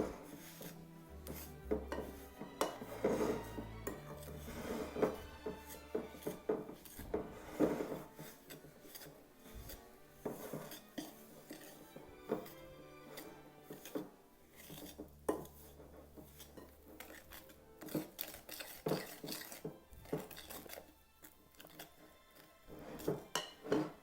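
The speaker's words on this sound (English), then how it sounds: "here's where that spoon comes in handy to mix it all together" A spoon mixes butter into peanut butter cookie dough in a bowl, with steady scraping and stirring, repeated clinks against the bowl, and occasional heavier knocks, close and fairly quiet, with no one talking.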